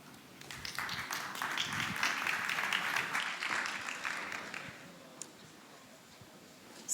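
Moderate applause from a conference audience at a transport funding information session swells for several seconds, then fades away to near quiet, with a few stray claps at the end.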